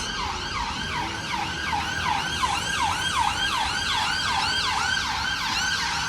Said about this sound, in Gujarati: પોલીસ આવે છે, એમ્બ્યુલન્સ છે